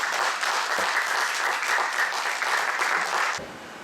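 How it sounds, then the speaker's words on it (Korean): Audience applause at a Catholic centennial commemoration talk concert in Wonju, Korea, welcoming a priest to the stage: steady, dense clapping from a full hall that holds for over three seconds, then drops away abruptly near the end. "더 힘찬 박수 주십시오."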